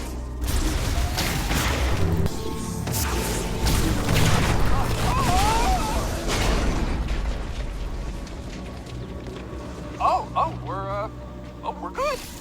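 Samus firing her weapon in Metroid Prime 4, a run of booming blasts and pops under game music, with a voice speaking near the end.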